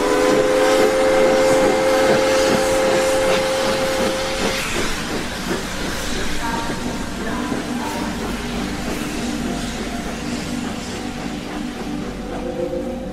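A steam train pulls out as a radio drama sound effect: a sustained whistle tone over hissing steam, then rhythmic chuffing and rolling wheels that carry on steadily.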